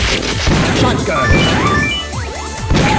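A shotgun blasts in the arcade shooter Metal Slug 6, with loud crashing shots and whacks amid busy game effects and voices.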